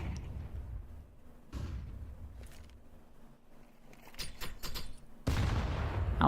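Counter-Strike grenade blast during a tournament match, a loud burst near the end after scattered bursts of gunfire and game noise, with no talk over it.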